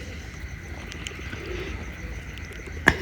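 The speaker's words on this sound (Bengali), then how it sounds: "এই যে কবুতরটা দেখতে পাচ্ছেন এটা হচ্ছে আমাদের খোকন ভাইয়ের চট জেনারেশনের একটা কবুতর" Pigeons of an old Khulna bloodline murmur with soft, low cooing inside a loft, a steady faint backdrop of birds broken by one sharp click near the end.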